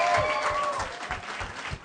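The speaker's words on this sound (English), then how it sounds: "Can you guys applaud loud enough so that she can hear it out there?" An audience at a book launch event bursts into loud, dense applause that fills the room, steady throughout and slightly fading near the end.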